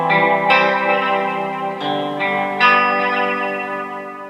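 Electric lead guitar part from a song played with open strings through chorus and effects; a few picked notes ring out close and clear, each new attack sustaining into a shimmering, echoing tone.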